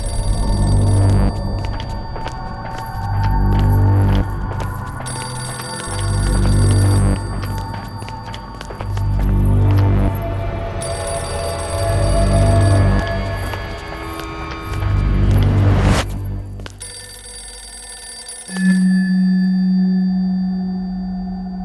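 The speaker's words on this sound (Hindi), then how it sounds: "फोन बज रहा है ना घर पे?" A phone rings repeatedly in a steady looping pattern over tense background music, ending with a sustained low tone.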